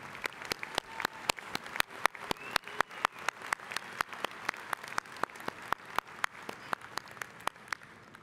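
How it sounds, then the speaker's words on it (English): Commencement ceremony audience applauding honors candidates, a long steady run of distinct claps from a large crowd, fairly distant and even throughout. "Will the audience please join me in applauding their honors candidate?"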